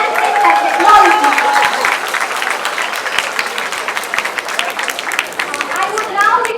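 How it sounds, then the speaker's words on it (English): An audience at a college youth festival applauds the winner of a solo western dance competition, sustained dense clapping from a large crowd that stays fairly loud and steady throughout. "please let us give a huge round of applause for the first winner of solo dance western category, Jia Kumari of St. Xavier's College"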